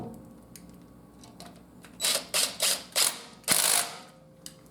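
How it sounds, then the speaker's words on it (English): A ratchet turns a rotor bolt back in on a Cadillac Escalade during front brake rotor replacement, five quick bursts of sharp clicking close by after a quiet start, with no talk. "And we just got to put our little bolt back in."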